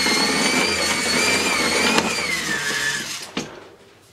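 Whirring whine of a small geared electric motor spun by a hand crank to act as a generator, steady and close with a pitch that slides downward before a clunk and a fade.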